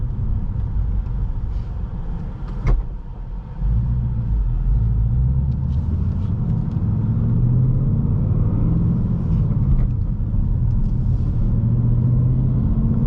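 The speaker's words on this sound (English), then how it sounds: "Really hits those downshift throttle blips." Engine of a 2019 Ford Mustang Bullitt with a 6-speed manual and auto rev matching, driven on the road: a steady loud low rumble throughout, with a brief sharp blip near the start, heard alone.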